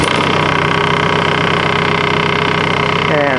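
A tractor engine runs at a steady, loud idle with a constant droning hum that stays even throughout, close by.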